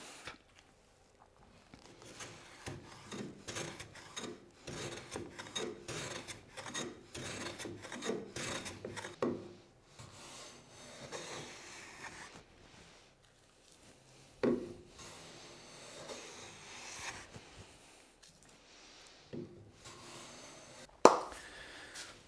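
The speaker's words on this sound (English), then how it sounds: "So I won't bore you with me planing all five of these pieces." Hand plane shaving wooden pieces for a jiu jitsu belt display rack: repeated rasping strokes in steady bursts for about ten seconds, then sparser, scattered passes with a few sharp knocks, close and fairly loud with no talk.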